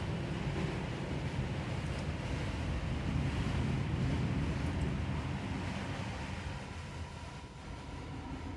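Automatic truck wash running steadily, with a continuous loud rush of spraying water and churning brushes, a broad broadband wash that swells slightly and eases toward the end; no talking.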